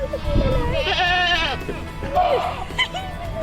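Baby goats on a goat farm bleat in several close, wavering cries, with someone talking among them.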